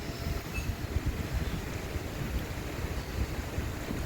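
Steady rumble and broadband rolling noise inside a passenger train pulling into Nemom station near Thiruvananthapuram, continuous and fairly loud throughout with no talking.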